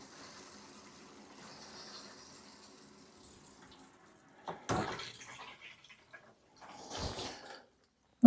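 Water rinses out a filter outdoors, a faint steady trickle at first, then two louder splashing gushes with quiet gaps between them.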